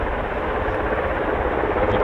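A CV-22 Osprey tiltrotor aircraft at RAF Mildenhall sends out a loud, steady, broadband rotor-and-engine roar that holds evenly throughout, close by and with no talk over it.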